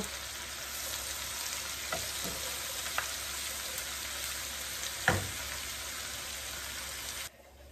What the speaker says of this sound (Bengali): এখানে পরোটাগুলো ভাজতে চলে আসলাম।